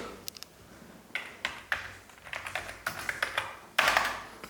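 Keys are pressed on an old Atari computer keyboard left in an abandoned boarding school in the woods: faint, irregular clicks and taps come in small bursts, with a louder cluster near the end.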